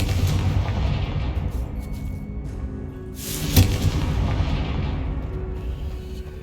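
A Confringo blasting spell explodes in a Harry Potter-style video game, heard as a deep rumbling boom with a sharp crack near the middle over a constant low roar.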